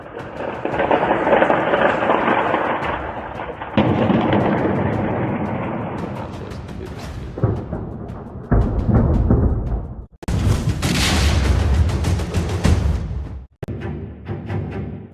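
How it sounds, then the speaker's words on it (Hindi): A series of loud, rumbling blasts and booms from explosions near a metro station in Kyiv during a Russian attack rolls through continuously, with heavy low-end roar and abrupt bursts near the end. "राजधानी कीव में मेट्रो के पास एकाएक कई धमाके। धमाके की आवाज से गूंज उठा शहर।"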